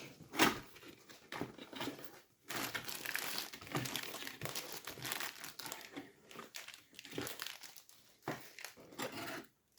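Plastic wrapping from a wrongly sent parcel, thought to be a Kamut 408 BT, crinkles and crackles up close in uneven bursts with short pauses as it is handled and opened.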